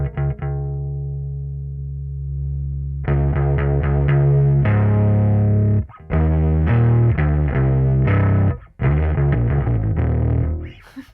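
A bass guitar played through the boost setting of a Line 6 POD Express Bass, modeled on an Exotic EP booster: one long held low note, then a run of punchy plucked notes, loud and solo.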